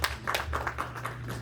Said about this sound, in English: I'm glad you guys clapped for that